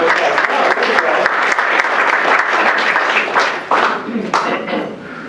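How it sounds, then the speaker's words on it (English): An audience gives a round of applause for a U.S. Army Reserves captain at a Veterans Day event, dense steady clapping that holds strong and loud before thinning toward the end. "Give her a round of applause."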